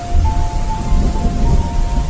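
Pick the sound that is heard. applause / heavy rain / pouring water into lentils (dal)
heavy rain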